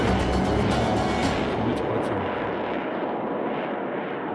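Sukhoi Su-27 fighter jet roaring loudly and steadily in flight, a dense broadband jet rush that holds strong before its upper hiss slowly fades toward the end.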